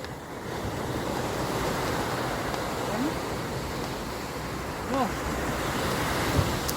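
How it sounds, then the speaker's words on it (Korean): Steady broadband roar of surf washing in at the beach in Gangneung, South Korea, with wind noise buffeting the microphone and a few faint chirps and whistles poking through. "그 바닷소리 진짜 좋다"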